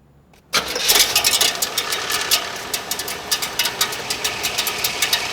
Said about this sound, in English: All that racket that you heard was this little shipping strap, metal strap